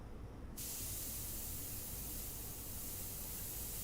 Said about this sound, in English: my airbrush. It might be a little dryness at the nozzle. I'm not going to test on my painting. I'm going to test over here.